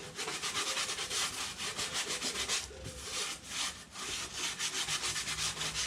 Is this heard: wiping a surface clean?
yes